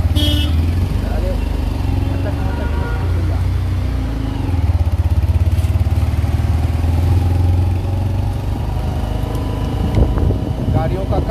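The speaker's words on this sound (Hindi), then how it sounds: "गाड़ियों का काफिला हम लोगों के साथ" A convoy of cars and motorcycles rolls slowly toward a riverside ghat in Patna during an ashes-immersion procession, with a steady, close engine rumble and occasional revving under ongoing voices.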